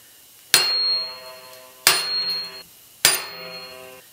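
Three loud, ringing metallic strikes of a big hammer driving a steel chisel into soft wood, spaced about a second and a half apart, each with a bright clang and short decaying ring, no talking.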